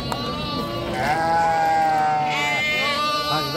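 Hisori sheep and lambs bleat repeatedly at a livestock market, several overlapping wavering cries close by over a steady crowd murmur and scattered background voices.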